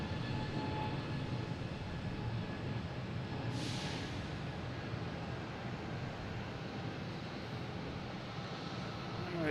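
A Delta airliner moving at Boston Logan International Airport, heard as a steady, loud, broadband jet engine roar that holds throughout with no talking.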